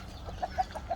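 Several short, soft clucks from a young rooster in quick succession, fairly close against a quiet background.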